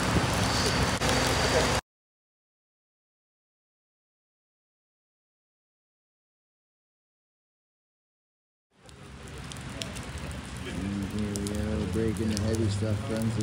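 Rain falls outdoors during a totem pole raising downtown, a steady broadband patter and hiss. It cuts out completely for several seconds, then returns with people talking over it.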